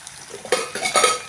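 A utensil scrapes and clinks against a pan while onion, tomato, ginger, garlic and green chilli are sautéed together, giving a few short close metallic stirring strokes.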